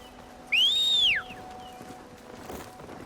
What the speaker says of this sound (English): She has a shrill whistle.